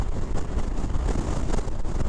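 Strong gusty wind on Prince Edward Island roars and buffets the microphone during a drive, a loud, rough low rumble that stays steady throughout with no talking.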